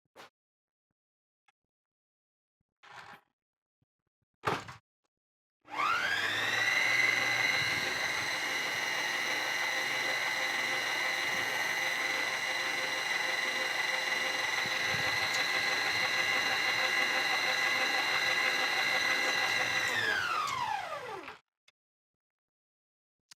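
An electric hand mixer whirs steadily for about fifteen seconds, beating coconut cranberry cookie dough after half the flour, salt and baking soda are added; a loud, even motor hum that starts abruptly and winds down at the end, with brief knocks before it.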